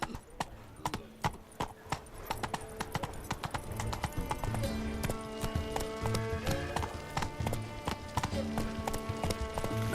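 Roach, the horse in The Witcher 3 video game, gallops in quick, rhythmic hoofbeats over a musical score, with a brief whinny, steady and moderately loud.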